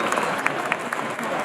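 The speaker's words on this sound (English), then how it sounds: "Somebody give a round of applause for our droids." A crowd claps together for costumed droids at a fan talk event, dense steady applause filling the short stretch with a busy mix of close and distant hand claps.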